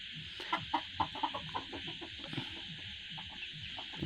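Colombian Light Brahma chicks and young chickens on a farm make repeated soft clucks and chirps in a quick irregular patter over a steady background hum.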